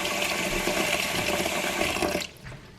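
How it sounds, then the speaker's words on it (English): Water pours steadily and loudly into a cooking pot of pinto beans for a couple of seconds, then stops abruptly, leaving a quiet room. "Put a little bit more water in there."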